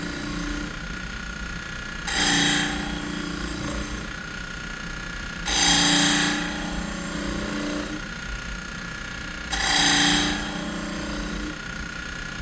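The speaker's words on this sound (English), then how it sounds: "we're going to start up the buffer at 1800 RPMs" A buffer running at 1800 RPM polishes machined aluminum with a Scotch-Brite pad, giving a steady whirring hum that swells into three louder, hissing passes as the workpiece is pressed against the wheel.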